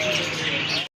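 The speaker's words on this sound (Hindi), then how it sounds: "ये अब्रॉड की हैं, यानी बाहर की हैं जो है ये भी चिड़ियाँ देखें माशाल्लाह।" Caged birds at a Faisalabad bird market, including small pigeons and parrots, chirp and coo in a busy chorus under nearby talk, then cut off abruptly before the end.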